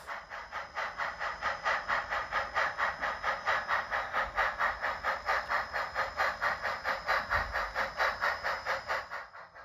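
An HOn3 Blackstone K-27 model steam locomotive hauls a five-car train up a 3% grade on an 18-inch curve, giving steady, evenly spaced chuffs with a hissy edge, continuous and close, with no talking.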